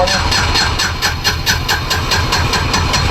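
Small boat engine, started after the boat nearly sank, running in a fast steady chugging pulse with hissing exhaust, loud and close, while voices talk over it.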